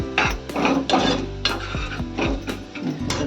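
Sugar and Malvani masala are stirred in a pan while cooking a val papdi vegetable dish, giving a series of clinking scrapes and taps of a spoon against metal, several distinct strokes at a steady pace, near and clear.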